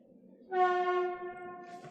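A passing train's horn sounds a single sustained, loud blast close by, steady for over a second before fading into rumble.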